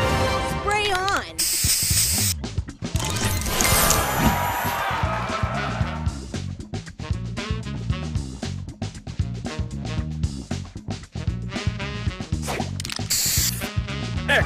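A spray booster effect fires in a match-3 video game, a loud hissing burst amid busy game music, chimes and chirpy effects, with an announcer voice calling out over the action.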